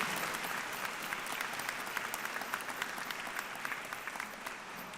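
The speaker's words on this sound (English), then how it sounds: "So shall we applaud friends and family who've supported us on this journey?" A graduation ceremony audience of friends and family applauds in a large historic hall, with dense, steady clapping that holds at an even level throughout.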